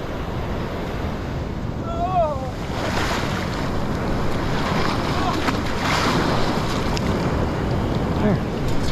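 Ocean surf washes steadily onto a beach under strong wind buffeting the microphone, a continuous loud rush throughout with a brief voice-like sound early on.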